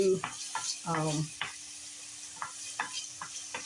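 Ham browning in a pan on a stovetop for a creamy fettuccine: a steady close sizzle with intermittent scraping and stirring knocks, and a brief hum of voice partway through.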